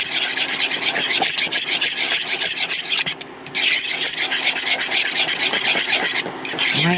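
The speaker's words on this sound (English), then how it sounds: "I'm going to keep on stirring it up." Egg roll in a bowl ingredients with ground ginger and brown sugar being stirred in a pan, a continuous scraping and rubbing of a utensil against the cookware with short pauses, close and fairly loud.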